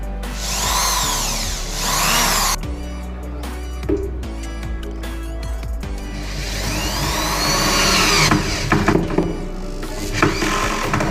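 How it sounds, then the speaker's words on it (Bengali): Power screwdriver driving screws into a stainless steel kitchen basket fitting, whirring in several loud bursts with clunks between them, close up and without talk. "এখন স্ক্রু দিতে হবে এই যে আমাদের স্ক্রু টাইট করা মেশিন"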